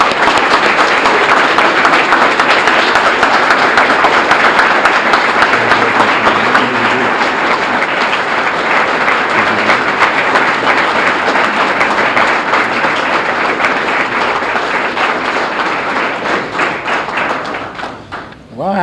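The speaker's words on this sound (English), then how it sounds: "Let's give him a round of applause." An audience at an awards ceremony applauds loudly and steadily for the whole stretch, dense clapping close by that fades slightly near the end.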